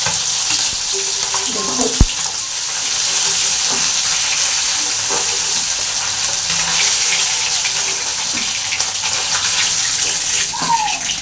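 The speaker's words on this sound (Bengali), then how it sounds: "এক পিঠ একদম ভালো করে ভাজা হয়ে গেছে, আর এক পিঠ হচ্ছে, তাহলে একটা একটা করে তুলে দিচ্ছি মাছ।" Fish pieces fry in hot oil with a loud, continuous sizzle close by, a single knock near the start and light stirring noises, while a voice briefly speaks over it.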